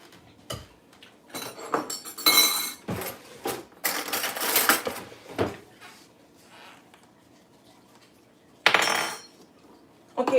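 A knife slicing boiled eggs in two on a board for deviled eggs, with scattered clicks, taps and clinks of cutlery and dishes, irregular and close, plus a few brief bright scraping bursts.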